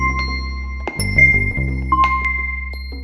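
Light chimes tinkle and ring over a low sustained jazzy hip-hop background, with a few bright metallic pings scattered across the moment.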